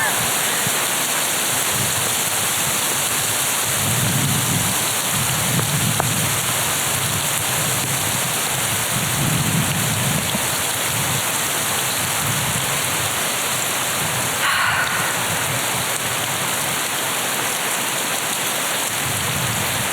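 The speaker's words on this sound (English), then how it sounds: "How beautiful that we have hail." Hailstorm with heavy rain: a dense, continuous hiss and patter of hail and rain on surfaces lasting twenty seconds, with low rumbles mixed in and a steady high whine in the background.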